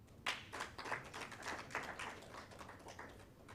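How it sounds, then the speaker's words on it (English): Audience at a national conference on economic, social and cultural rights gives a short round of applause, scattered hand claps fairly close, quiet and lasting a few seconds. "welcome with me with a round of applause"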